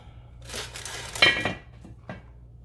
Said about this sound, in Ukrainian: беремо в нашу каструлю, накриваємо кришкою